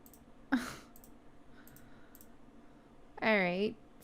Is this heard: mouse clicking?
yes